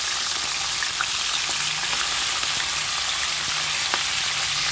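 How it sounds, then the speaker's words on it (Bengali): Prawns frying in oil in a frying pan make a constant dense crackling sizzle, close and even in level from start to finish, with a few sharper pops and no talk. "এবারে আমি ফ্রাই প্যানে মাছগুলো দিয়ে দিলাম।"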